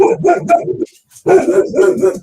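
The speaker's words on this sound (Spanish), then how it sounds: "es mi perro que escucha el ascensor y se vuelve loco" A pet dog barks and yips in short, loud bursts indoors, set off by the sound of an elevator; the barking breaks off briefly, then starts again.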